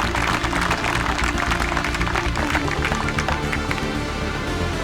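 A golf tournament crowd at a ladies' open applauds a par save at the final hole, a dense, steady clapping that holds throughout, with a murmur of voices mixed in.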